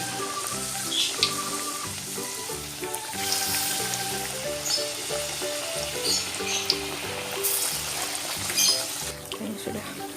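Salted fish frying in hot oil in a home kitchen: a steady sizzle and crackle with occasional louder pops. Background music plays under it throughout.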